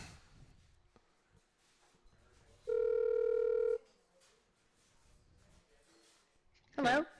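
A telephone call being placed: a steady electronic tone holds for about a second, followed later by a short burst of ringing, with quiet background sounds and a person's presence between.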